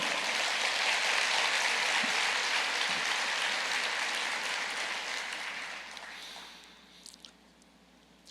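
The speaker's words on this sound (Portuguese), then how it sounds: "Aleluias, pode aplaudir o Senhor?" A church congregation applauds in a dense, sustained roar of clapping that fills the room, then gradually thins and fades to a few scattered claps near the end.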